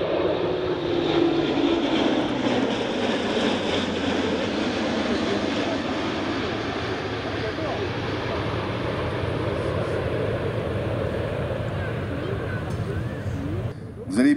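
An Airbus A400M military transport aircraft flies a tactical display at an airshow, its turboprop engines a loud, steady roar that fades slightly near the end, with a voice speaking over it.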